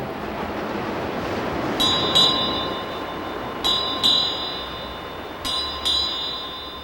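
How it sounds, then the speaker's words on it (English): A ship's bell strikes six bells in three paired strikes, clear and resonant, over a steady background hiss of sea or wind. "6 bells, and all's well."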